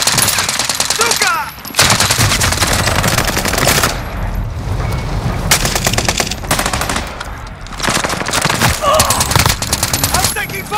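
Heavy automatic gunfire in Call of Duty: Modern Warfare, loud, dense bursts of rapid shots broken by brief lulls, with battle noise between volleys.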